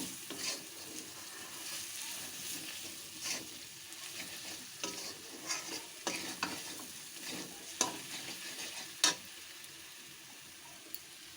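Mutton curry stirred in a pan, a soft continuous sizzle with irregular scraping and clinking of the utensil against the pan, fairly quiet and close, with no voices.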